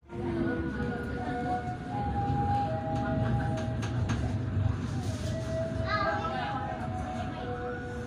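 A steady low rumble and rattle of a train rolling along the tracks between Bandung and Bogor, heard from the rearmost car, with squealing tones and voices chattering over it.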